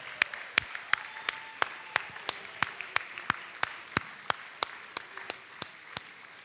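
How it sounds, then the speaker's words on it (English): Clapping at a fundraising gala: sharp, evenly spaced claps stand out clearly over a faint, sparse background of other clapping, at a moderate distance. "give yourselves a big round of applause"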